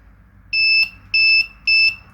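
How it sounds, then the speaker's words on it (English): Three loud, high-pitched beeps from a regular electronic buzzer sound at an even pace, each lasting about a third of a second, with nothing else audible. "A normal buzzer."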